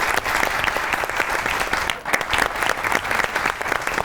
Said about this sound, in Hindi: दोनों के लिए ताली बजाइए पहले तो।